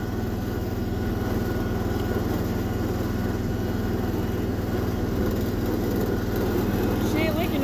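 A 1976 Massey Ferguson garden tractor engine runs steadily at close range, a constant rough drone with no letup, while a voice talks faintly over it.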